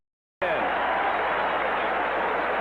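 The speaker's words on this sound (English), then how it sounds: "You can hear the crowd reaction." A football stadium crowd at a 1978 Raiders–Packers game in Green Bay bursts into a loud, sustained roar that starts abruptly and holds steady, with a broadcaster's voice faintly beneath.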